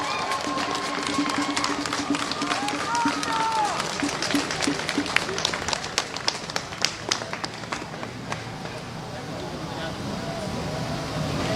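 Scattered hand claps and a rising patter of applause from a protest crowd outdoors in Portland, with voices talking underneath and a few sharp taps standing out.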